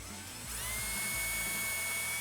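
A drill bit spins down a screw hole in a Hutchinson beadlock wheel fitted with 37x12.50 Nitto Trail Grappler tires, a steady high whine rising after a brief start and holding close and loud throughout.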